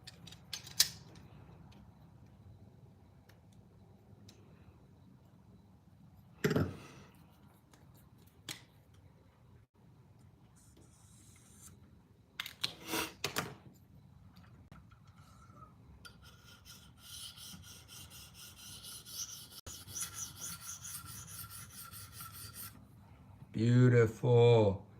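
A knife blade rasps across a 600 grit sharpening stone in scattered strokes and scrapes, with sharp knocks and brief handling noises between passes and a voice talking at moments.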